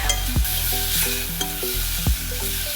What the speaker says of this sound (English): The pork starts sizzling right away.